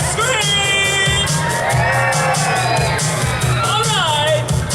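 Crowd at Chessington World of Adventures theme park screaming, whooping and cheering loudly and continuously, with children's shrill shouts and overlapping voices filling the whole stretch.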